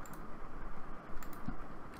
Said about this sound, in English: We load the Swirl package by typing library Swirl.